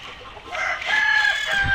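A Tiger breed chicken gives a single drawn-out crow close by, rising and held, over faint farmyard background.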